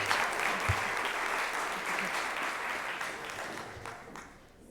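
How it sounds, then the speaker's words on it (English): An audience at a school board meeting claps for several seconds, steady and fairly close, and the clapping thins out toward the end. "Let's give him a round of applause."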